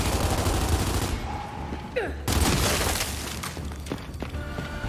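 Rapid bursts of gunfire and explosions crackle loudly in a Gears 5 video game battle against a drone, with sharp impacts, shattering debris and a brief whistling sweep.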